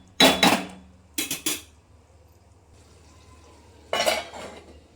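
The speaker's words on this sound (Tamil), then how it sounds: "வாங்க இதை மூடி வச்சுக்கிட்டு நம்ம பார்ப்போம்." A lid is set over a pan of cooking vegetables for vegetable masala dosa. Three short metallic clanks and rattles come close and fairly loud, separated by quiet gaps, with one last clatter near the end.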